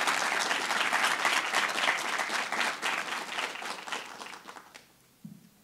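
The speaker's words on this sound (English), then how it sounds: "So before we start, can we get a round of applause for Aisha?" An audience applauds warmly at a lecture, the sustained clapping of many hands gradually thinning and fading out near the end.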